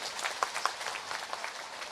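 Audience applause at a political rally in Jharkhand addressed by Madhya Pradesh Chief Minister Mohan Yadav: steady, moderately distant clapping from a crowd, with a few sharper individual claps standing out.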